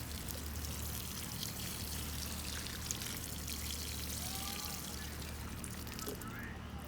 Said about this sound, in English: And I'll show you exactly how much water is actually put into this.